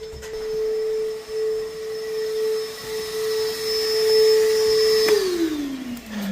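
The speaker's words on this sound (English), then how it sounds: "So I got the blower, which is the back side of the unit, on, and was blowing through the hole there." A blower on the back side of a shop unit pushes air through a hole, giving a loud steady whirring drone with a constant tone that falls in pitch as the motor winds down near the end.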